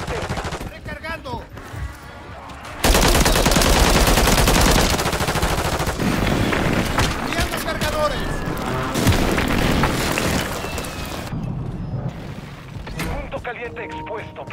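In Call of Duty MW2, loud gunfire and booming explosions erupt in a dense, sustained barrage close by, with game voices calling out over the battle before and after the heaviest stretch.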